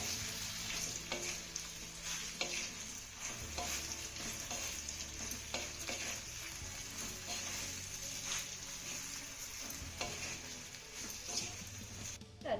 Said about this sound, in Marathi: आता ह्या वड्यानं आपल्याला एक ते दोन मिनिटं चांगल्या परतून घ्यायच्या